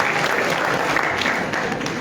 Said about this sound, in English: Can we give another bigger round of applause to the Crusaders for Peace?